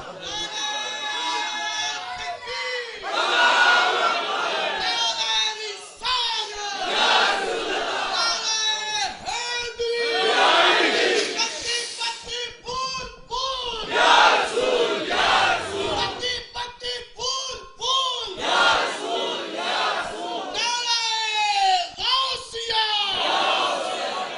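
A crowd at a religious gathering shouts slogans in loud call-and-response waves, a leader's voice answered by many voices, repeating in bursts throughout.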